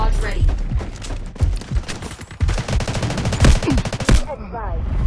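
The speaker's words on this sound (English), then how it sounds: "Artillery barrage ready." Video game battle with an artillery barrage and sustained gunfire: loud rapid machine-gun bursts and booming impacts overlap densely, with a radio-style voice speaking over the din.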